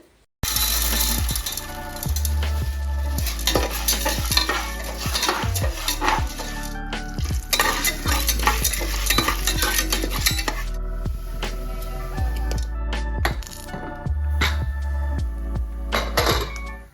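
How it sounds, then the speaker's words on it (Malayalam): Kitchen cooking in a pressure cooker with oil, salt and turmeric, frying in two batches: steady loud clattering of utensils and stirring against the pot, with sizzling underneath throughout. "കുക്കർക്ക് കുറച്ച് ഓയിലും പിന്നെ ഉപ്പും മഞ്ഞൾപ്പൊടിയൊക്കെ ഇട്ടിട്ട് ഇതിങ്ങനെ ഹാഫാക്കിയിട്ട് ഫസ്റ്റ് ഒരു ബാച്ചും സെക്കൻഡ് ഒരു ബാച്ച് അങ്ങനെ 2 പ്രാവശ്യമായിട്ടാണ് പൊരിച്ചിട്ടുള്ളത്."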